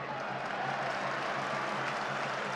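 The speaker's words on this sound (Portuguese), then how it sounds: "Sob os aplausos do torcedor" A stadium crowd at a football match applauding as a steady, dense wash of clapping and crowd noise that holds at an even level throughout.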